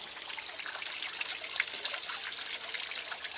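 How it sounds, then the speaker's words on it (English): Black sand poured into water on a homemade Miller table, a continuous soft trickle and splash with water recirculating into a kiddie pool, steady and fairly close. "here goes the last of that black sand"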